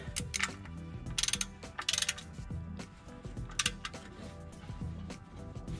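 Ratchet wrench tightening the oil sump plug on a Holden VE V8 (Pontiac G8) during a service, close-up metallic clicking in short irregular bursts with clanks of tools, no talking.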